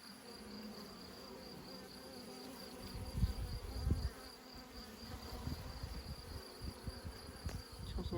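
Honey bees buzz steadily around a caged, freshly mated queen, a continuous low hum with a few louder close passes, heard alone without talk.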